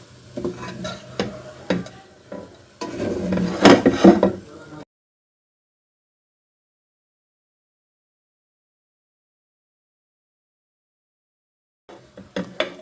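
A spoon stirring Pakistani makhandi halwa with added nuts in a pan: close scraping and clinking strokes for about five seconds, then silence, with a brief return of stirring at the end.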